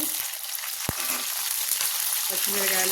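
Urad dal, cumin seeds and green chillies fry in hot oil for a fenugreek leaf chutney, giving a loud, steady sizzle close by, broken by a sharp tap near the start and a faint hum of voice toward the end.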